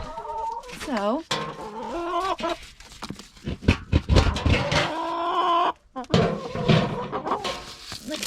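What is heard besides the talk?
backyard chickens clucking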